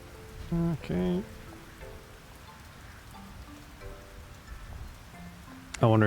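Rain falls steadily in the cozy farming game Fields of Mistria, a soft continuous patter running under game music with chiming notes and brief sound effects.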